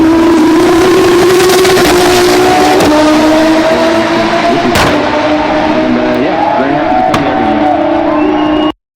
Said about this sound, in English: we have a video of the Apex cars in action at the Hungaroring